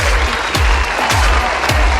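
An audience applauds the second runner-up at the Miss Queen Kerala 2021 beauty pageant, with dense, steady clapping filling the hall and a few deeper thumps recurring throughout.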